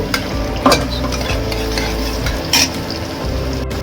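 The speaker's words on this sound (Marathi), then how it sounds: "आता आपला कांदा छान मस्त गुलाबी रंगावर फ्राय झालाय" Onion sizzling and frying in a pan until pink for a chickpea and bottle gourd curry, a loud continuous close hiss with a couple of sharp scraping stirs of a spoon against the pan.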